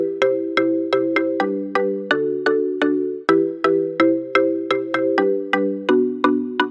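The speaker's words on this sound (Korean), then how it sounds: "이런 식으로 짧고 문바톤의 느낌을 그루브로 연주해서" Short plucked synth notes play a bouncy moombahton groove from a K-pop track, with steady, evenly spaced staccato hits that sound loud and clear with no voice over them.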